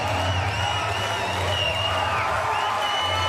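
A Paralympic powerlifting arena crowd at Paris 2024 cheers, whoops and applauds for Egypt's women's -55kg gold medallist, a steady, dense roar of many voices sustained throughout.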